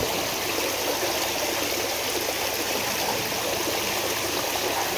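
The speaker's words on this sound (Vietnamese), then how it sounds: "Nghe tiếng thác rất là mạnh cả nhà ha." A pump-driven waterfall pours into a koi pond in a constant, loud, hissing rush of falling water that holds steady throughout, with no talking.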